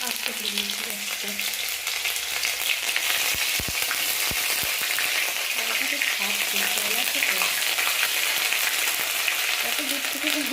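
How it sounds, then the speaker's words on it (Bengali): Ginger fries in a pan with a loud, constant sizzle and crackle close by, with a few sharp clinks of a utensil midway and faint voices in the background. "দেখো এটা ভাজা ভাজা আদাটা দিয়ে দিলাম"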